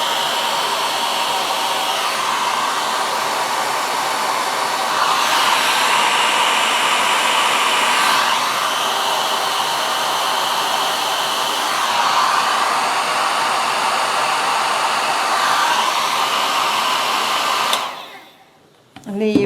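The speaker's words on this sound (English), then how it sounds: "I'm just going to use the blow dryer" A blow dryer blasts a continuous loud, airy roar close up while drying alcohol ink, holding steady for about seventeen seconds before switching off abruptly.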